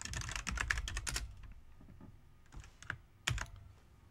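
Typing on a computer keyboard during network hacking work: bursts of quick, close clicky keystrokes, a dense flurry at first, then scattered taps with pauses and a final short cluster.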